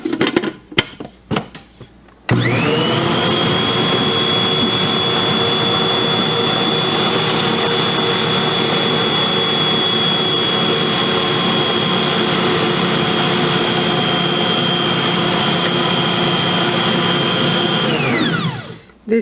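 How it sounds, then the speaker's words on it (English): A KitchenAid stand mixer creaming butter with three eggs, its motor starting abruptly and running as a loud, steady whine for about sixteen seconds before spinning down, preceded by a few clunks. "This mixer is awesome."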